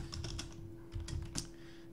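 Fast typing on a computer keyboard at a desk, a quick run of light clicking keystrokes in two short bursts, close and fairly quiet, with no voices.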